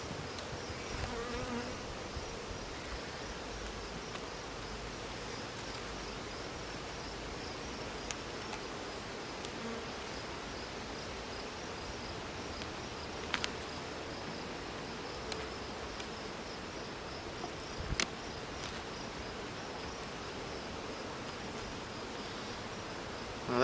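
Honeybees drone during a hive inspection, a steady soft buzzing that fills the whole stretch at close range, with a few faint clicks and rustles and no talk.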